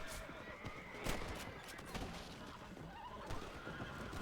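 A horse in the Red Dead Redemption video game gives a sharp whinny and snorts amid hoofbeats, moderately close, with brief bursts of other game noise around it.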